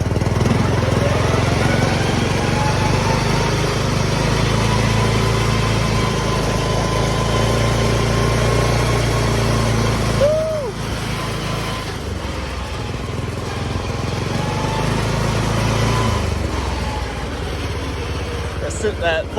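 A small MTD lawn mower engine with a full auto transmission runs steadily and loudly, its drone easing slightly partway through while someone talks over it.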